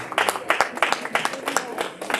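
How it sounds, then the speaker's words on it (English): An audience at a university arts festival claps after a bhajan performance, a short burst of brisk, irregular applause from a modest crowd, fairly close. "Big round of applause."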